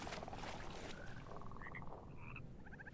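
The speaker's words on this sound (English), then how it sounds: "Oh, it's just frogs." Frogs croak in the Mortal Shell video game, a chorus of repeated raspy croaks in short pulsing bursts over a constant dense ambient wash, fairly close and with no talk.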